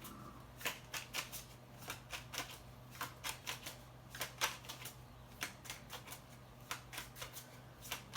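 Tarot cards being shuffled up close, a long run of quick, crisp slaps and snaps at an uneven, steady pace over a faint low hum, with no voices.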